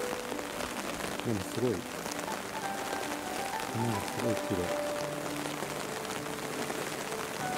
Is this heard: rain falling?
yes